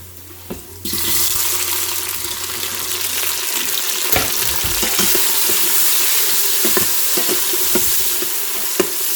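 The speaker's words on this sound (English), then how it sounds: "Now we're going to add the tomatoes we cut earlier." Chopped tomatoes dropped onto browned onions in hot oil set off a sudden loud sizzle that continues as a steady hiss, broken by repeated scraping and stirring knocks of a utensil in the pan.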